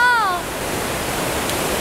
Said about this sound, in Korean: 거침없이 쏟아지는 물줄기가 우렁찹니다.